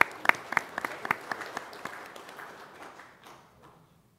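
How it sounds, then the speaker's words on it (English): Modest applause at a county fiscal court meeting: a small group claps in a quick scattering of distinct hand claps that taper off and fade out within about four seconds. "So let's give her a round of applause,"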